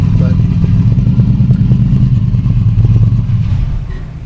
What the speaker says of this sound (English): You can hear me over this motorcycle